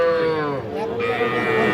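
A roughly three-month-old bull calf at a cattle market lets out a loud, close, drawn-out moo that dips briefly midway and then resumes.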